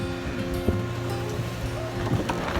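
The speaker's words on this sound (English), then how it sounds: "I've got the wind behind me and I'm going up the wave." Wind and waves roll past a small sailboat running downwind up a wave on a confused sea, a broad steady rushing wash with some low buffeting, no voices.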